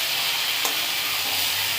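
Cabbage fries in a pan with a steady, close sizzle and hiss, and a brief stir or scrape sounds partway through.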